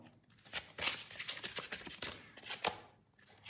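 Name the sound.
tarot cards being shuffled and drawn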